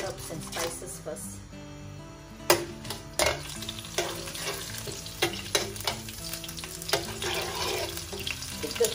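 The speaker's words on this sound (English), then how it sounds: "Put in all the dry herbs and spices first." Dry herbs and spices sizzle and fry in a heaped tablespoon of ghee for a lamb dum biryani, a steady crackling hiss with scraping stirs and clinks throughout.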